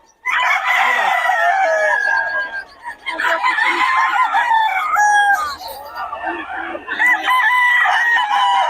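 Young stag roosters on a farm crow loudly and cluck close by, several birds overlapping in a near-continuous chorus of rising crows.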